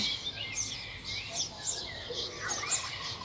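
Small birds chirp outdoors under an overcast sky with light rain starting: faint, scattered high tweets over a soft steady background hush.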